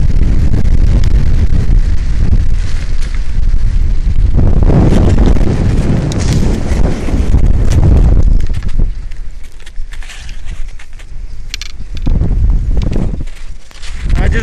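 Strong mountain wind roars and buffets the microphone, loud and gusty throughout, blowing snow horizontally, easing slightly in the second half with brief rustling.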